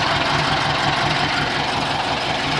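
A car engine runs with the alternator belt removed, a steady, close, loud idle with a rough rumbling and knocking texture and no talking.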